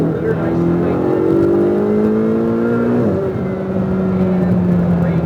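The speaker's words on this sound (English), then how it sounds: "Power out. Hard on the throttle here." Ferrari 488 GTB accelerating hard on a track, its engine note climbing steadily through the rev range, dipping briefly at an upshift, then pulling again, loud and close from inside the car.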